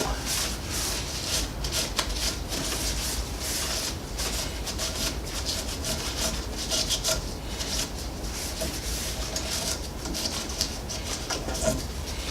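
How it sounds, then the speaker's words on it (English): A towel soaked in rubbing alcohol scrubs residue off a glass 3D printer platen, producing a continuous close, rasping rub with quick back-and-forth strokes. "And regular rubbing alcohol cleans up the residue from the residue."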